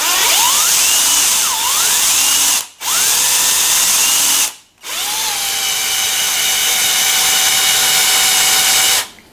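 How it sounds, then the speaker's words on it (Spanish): A power drill whines steadily at high pitch, spinning an engine valve chucked in it, revving up and down and stopping briefly twice before spinning again in a long sustained run. "Podés agarrar la válvula y colocarla en un taladro."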